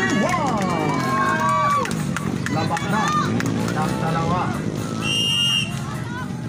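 Crowd of engineering students shouting and cheering at a mud volleyball game, a loud continuous roar of voices with whoops and whistles, a commentator talking over the noise throughout.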